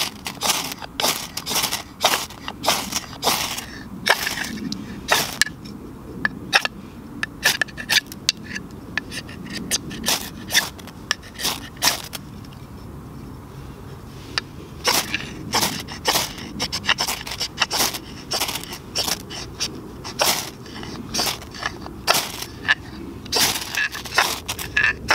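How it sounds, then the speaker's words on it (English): A ferro rod struck repeatedly to shower sparks onto wax rounds and a tinder bundle outdoors, giving a long run of sharp scraping rasps and crackles at an uneven rhythm, close and fairly loud with no talking. "So I've pretty much showered a ton of sparks down in there."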